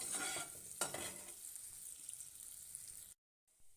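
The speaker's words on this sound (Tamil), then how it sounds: "So onion வதங்கிட்டுருக்கு." Onions sauté in a pan with a faint, steady sizzle and a couple of stirring scrapes early on, fading softer before a brief silent gap near the end.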